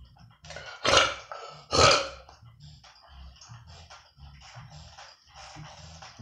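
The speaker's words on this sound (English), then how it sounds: "I kept talking because I started burping." Two loud, close burps come about a second apart near the start, followed by quieter throaty sounds and soft rustling.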